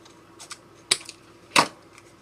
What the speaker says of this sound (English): I'm just going to trim mine a bit because I didn't cut mine properly